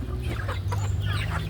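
A pet hen clucks in a quiet rural province setting, a run of close, moderately loud clucks over a low steady hum.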